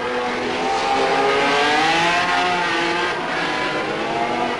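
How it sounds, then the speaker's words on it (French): A high-revving Formula One engine on a 1972 Ferrari screams continuously at the Monaco Grand Prix, its pitch wavering as the car holds speed close by. "Claire Regazzoni sur sa Ferrari numéro 7"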